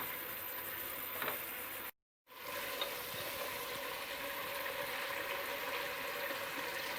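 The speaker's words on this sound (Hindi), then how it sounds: "4 से 5 मिनट इसको भूनेंगे ताकि मटन का पानी भी खुश्क हो जाए" Mutton frying in a pot crackles and sizzles steadily throughout, with a brief silent gap partway, no voices.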